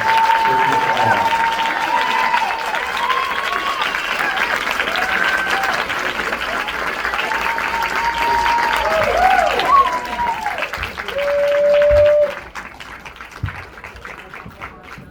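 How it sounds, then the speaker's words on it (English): Loud, sustained applause from a live audience welcoming a performer, a dense wash of clapping with voices talking over it, ending abruptly after about twelve seconds. "Ladies and gentlemen, give a round of applause for Mr. Allen."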